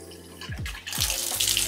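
A hot water tap runs into a bathtub in a tiny house, a steady close rush of flowing water after a brief burst of squeaky low tones at the start.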